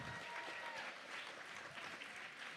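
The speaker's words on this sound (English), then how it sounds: "Can we give a round of applause to our breakout session leaders?" A room of event attendees applauds the breakout session leaders, a sustained, even patter of many hands clapping at moderate volume throughout, no speech on top.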